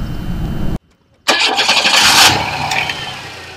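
A 1995 Chevrolet Camaro convertible engine cranks and catches after a brief silence, then settles into a steady, loud running idle close by.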